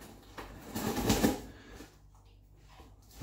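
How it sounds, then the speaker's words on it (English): Scissors snip and slice through a cardboard box holding a monthly craft-supply delivery, a quick run of crisp cutting and rustling sounds that fade into quiet. "That's how I like to use scissors."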